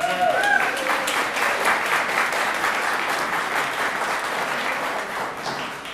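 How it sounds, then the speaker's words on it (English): An audience applauds at a city's 25th anniversary celebration, a dense, sustained wash of many hands clapping that carries on steadily and fades slightly at the end. "So let's start off with an applause."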